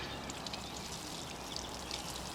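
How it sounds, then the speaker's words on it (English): Water pours steadily from close by onto the soil around a newly planted tomato, a continuous splashing trickle with no voices. "the next step, of course, is to get some water to it"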